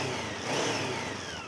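A cold Honda CB500 motorcycle engine is briefly blipped, its revs swelling up and then falling back over a second or so, loud and close.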